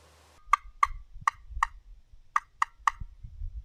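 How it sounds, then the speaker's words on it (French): A wild turkey gobbles in reply during a hunt outdoors, a run of sharp, rapid gobbling notes heard in two bursts, fairly clear at moderate distance over faint rustling and handling noise nearby. "On a quand même eu une petite frayeur avec le petit dindon là, qui nous a répondu"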